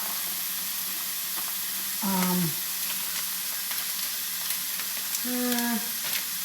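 Meat browns in a pan for creamy taco soup, a steady close sizzle and crackle running throughout, with two short tonal hums breaking through.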